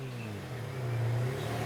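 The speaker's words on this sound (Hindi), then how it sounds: "गाड़ी की आवाज।" A car engine hums and revs briefly in the distance, a low steady drone that swells slightly toward the end, with no voices over it.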